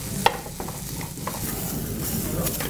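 Trout pan-fries in oil, giving a soft continuous sizzle with occasional clicks and scrapes of stirring or turning, close and moderately quiet.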